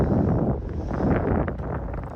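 Steady cold wind buffets the microphone on a fjord near Flåm, Norway, in a continuous low roar, with gusts swelling and easing; no voices.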